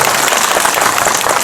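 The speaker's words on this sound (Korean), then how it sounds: "한 박수 부탁드립니다" Loud, dense applause from a festival audience at a Busan International Film Festival screening Q&A, a continuous rain-like wash of many hands clapping with no talk over it.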